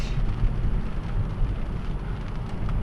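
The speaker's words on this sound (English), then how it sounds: "it's raining kind of hard" Heavy rain pours steadily on a car in a dense, continuous hiss, with a low rumble underneath and no voices.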